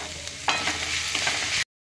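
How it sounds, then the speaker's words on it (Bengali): Capsicum, coriander and chopped tomato with a pinch of salt sauté on a high flame, a steady bright sizzle with stirring scrapes that jumps louder after the first half second and then stops abruptly. "এগুলোকে আমি জাস্ট সতে করে নেব, হাই ফ্লেমে সতেটা করব।"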